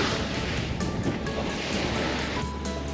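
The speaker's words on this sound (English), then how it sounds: "As the day goes on, the wind continues to build, and the waves get bigger." Ocean waves wash and rush steadily against a sailboat at sea in building wind, a dense continuous roar with gusting wind noise and no talk.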